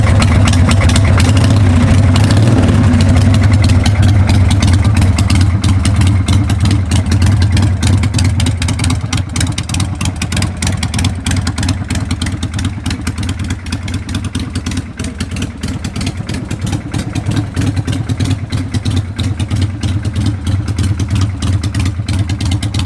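1999 Harley Davidson Sportster 883 motorcycle engine catching and settling into a loud, close, lumpy idle with a steady low throb and slight revs at the start.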